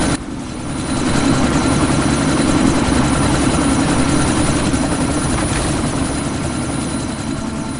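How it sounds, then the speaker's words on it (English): Helicopter in the video game Deus Ex, a loud, steady rotor and engine roar with dense low thumping that holds throughout, close and continuous with no talk. "That chopper's about to take off!"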